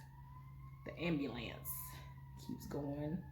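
Outside in the rain, an ambulance siren wails faintly and steadily in the background while a person talks over it.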